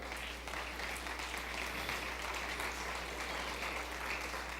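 Congregation applauding during a Spanish-language church service, a steady wash of many hands clapping at moderate distance, fairly quiet and continuous without talk.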